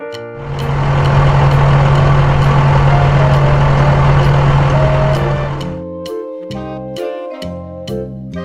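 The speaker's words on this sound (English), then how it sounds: "Bulldozer." A bulldozer's heavy diesel engine drones loudly and steadily with a low hum for about five seconds, then stops and gives way to a short tune.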